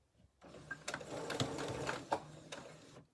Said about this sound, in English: you'll hear or feel the sewing machine go over that elastic